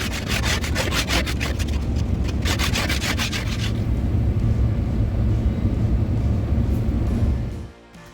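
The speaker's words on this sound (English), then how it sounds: "Time to go scrape the windshield." Ice being scraped off a van windshield on a cold winter morning, a loud close rhythm of fast rasping strokes that gives way to a steady rough hiss, then drops off abruptly at the end.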